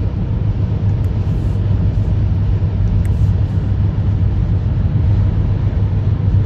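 A car cruising steadily at 160 km/h on a German highway, heard as a loud, constant low rumble of road and wind noise inside the cabin, with no talking.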